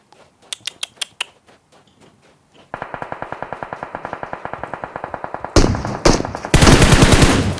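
Rapid automatic gunfire from the PUBG Mobile video game: a few sharp single shots, then a long, regular burst that grows louder and denser, ending in heavy, continuous firing close by.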